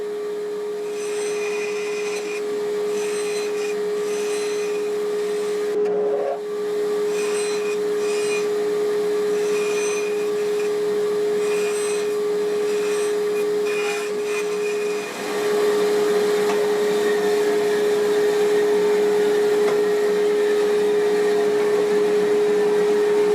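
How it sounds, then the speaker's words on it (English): A bandsaw runs with a steady tonal whine, cutting wood held in a hand screw, with brief dips in load around the cuts and no talking. "I'm going to cut that on a bandsaw, holding on to this in a hand screw"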